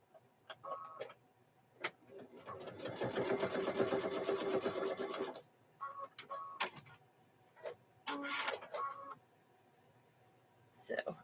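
A sewing machine sewing a seam on a fabric microwave bowl koozie. One steady burst of fast stitching lasts a few seconds, followed by scattered clicks and handling noises, heard close.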